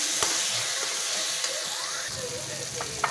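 Chicken curry spices (chilli, coriander and cumin powder) sautéing in a pan for an eggplant chicken dish, a steady close sizzling hiss with a few light stirring clicks.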